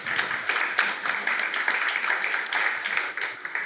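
A live audience applauds steadily in a hall, a dense wash of many hands clapping at moderate volume throughout, with faint voices mixed in.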